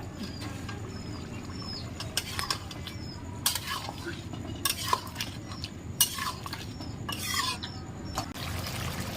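Ground garam masala paste goes into a village-style fish and potato curry, with scattered utensil scrapes and clinks against the pot over a faint simmer and low room noise.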